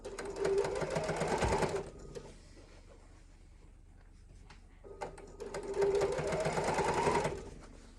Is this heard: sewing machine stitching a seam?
yes